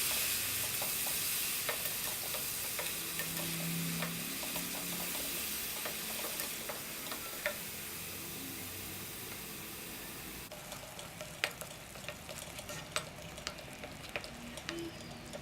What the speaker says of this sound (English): Just cook this onion paste for about 5 minutes on a medium flame.